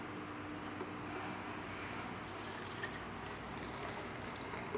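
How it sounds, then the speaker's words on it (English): Alcohol poured from a measure into a plastic water bottle gives a steady, continuous liquid stream with a gurgling wash of noise, moderately quiet and unbroken throughout, with no voices. "now you pour the 100 milliliter of alcohol in your water bottle"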